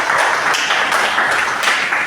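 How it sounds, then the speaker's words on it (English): Audience applause in a personality development training session, a moderate spread of hand claps with a few sharper individual claps standing out, steady across a brief stretch without talk. "I think we should give them a big round of applause."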